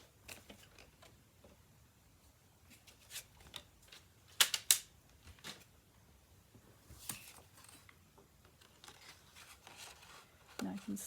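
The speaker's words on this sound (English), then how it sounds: "I'm just going to trim this off." Paper being trimmed for a handmade strawberry notecard: quiet snips and crinkly paper handling, with a sharp cutting burst in the middle and scattered soft clicks and rustles.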